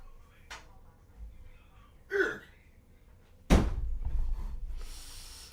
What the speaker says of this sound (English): Let me close my bedroom door.